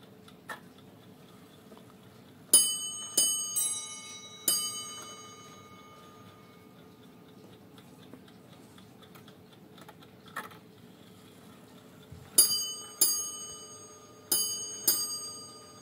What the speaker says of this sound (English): This clock has different chime sequence